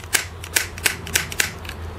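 Replacement keycap for a Commodore Amiga keyboard snapped onto its switch, giving a run of five or six sharp plastic clicks spaced about a third of a second apart, close and fairly loud over a low steady hum.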